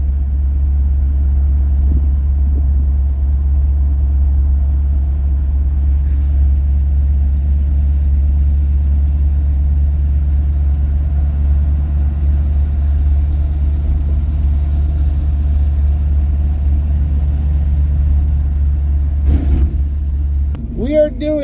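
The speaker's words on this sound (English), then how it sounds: "You're riding with me in the 85 Buick Regal this time." A 1985 Buick Regal on a road-racing sight lap hums with a deep, steady low engine drone from inside the car, holding constant for about twenty seconds before a brief clatter near the end, with people talking over it.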